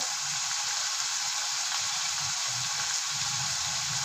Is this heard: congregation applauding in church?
no